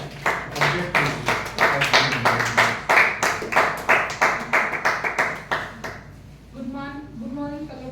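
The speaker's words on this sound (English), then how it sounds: "Let us welcome with a big round of applause Toastmaster Ekta" Rhythmic clapping at a Toastmasters meeting welcoming a speaker, fairly close and even for about six seconds before fading out, followed by a brief tonal chime-like sound.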